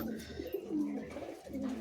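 Benarasi Giribaz pigeons coo close by in soft, throaty rolling calls, two or three drawn-out phrases in a quiet loft with no talking over them.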